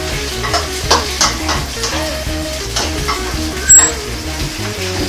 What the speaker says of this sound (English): you should really be cooking this for about 5 minutes in tomato sauce